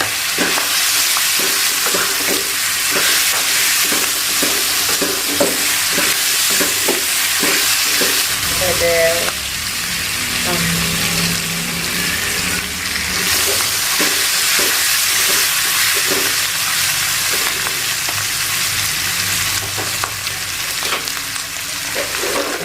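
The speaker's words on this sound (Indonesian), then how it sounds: "Kita masukkan daun kemangi, tambahkan daun bawang, aduk lagi." Squid stir-frying in a wok with basil leaves and spring onion, a steady loud sizzle with rhythmic scraping and clanking of a spatula stirring throughout, no voices.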